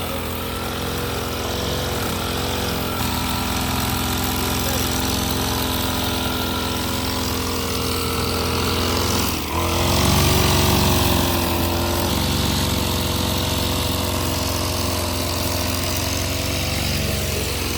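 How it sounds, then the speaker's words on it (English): A lawnmower runs steadily through the whole stretch, cutting thick grass on earth-mound family graves in rural Vietnam. The engine drone is loud and continuous, with a brief dip in the middle, and no voices are heard. "the lawnmower hums back to life."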